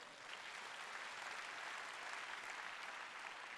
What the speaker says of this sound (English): The Holy Spirit deserves a round of applause for